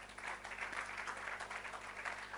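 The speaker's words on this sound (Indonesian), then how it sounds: "Yang setuju tepuk tangan bagi Allah kita." A church congregation claps steadily during a sermon, a dense wash of applause heard from a little distance with no voices over it.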